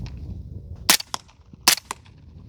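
Two shots from a rifle fitted with a DeadAir Wolfman suppressor, firing Ammo Inc 165-grain subsonic rounds, each a sharp muffled crack followed by a smaller mechanical clack of the action, spaced under a second apart.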